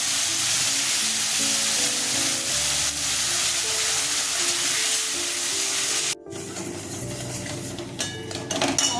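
Mustard, ginger, onion and chilli paste hit hot oil with nigella seeds in a frying pan for a fesha fish curry, giving a loud, steady sizzle that cuts off abruptly, followed by quieter frying and utensil clinks.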